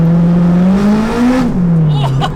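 A turbocharged 420 bhp Honda Civic Type R EP3 engine revs up and holds a loud, close, steady drone before easing back down, with brief chatter near the end.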